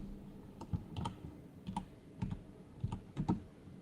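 Keys clack on a computer keyboard in short irregular bursts of several strokes, close and fairly quiet, with no voices over them.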